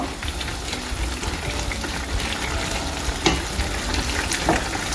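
Pizza sauce with garlic and spices bubbles and sizzles in a pan, giving a steady, close, hissing fry with occasional louder pops and spatters.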